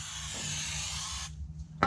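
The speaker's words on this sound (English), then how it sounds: "Put some brake clean on it." Brake cleaner sprayed from an aerosol can onto a brake part of a Honda CRX Si, one continuous close hiss lasting over a second that cuts off abruptly, followed by a short quiet gap and a small clink.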